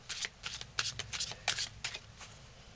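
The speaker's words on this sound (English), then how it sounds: "Give me 3 cards, please" Playing cards being riffled and shuffled close up, a quick series of papery flutters and snaps in bursts over a few seconds, fairly quiet with no talk.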